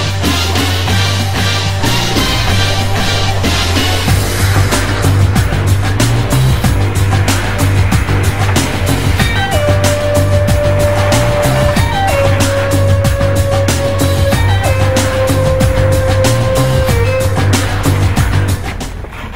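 A Hyundai i40 corners on a driving training track, its engine droning loudly and steadily throughout while tyres squeal in drawn-out tones that rise and fall during the turns.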